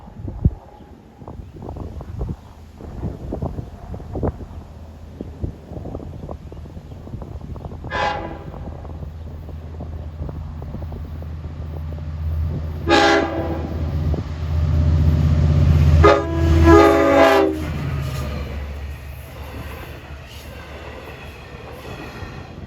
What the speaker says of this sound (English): Approaching is train 6010 from Jamaica to Montauk, the third in the eastbound fleet of 4.